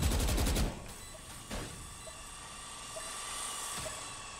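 A single sharp gunshot rings out in the Valorant shooter game, preceded by a brief burst of loud rapid firing and followed by faint ticking game sounds.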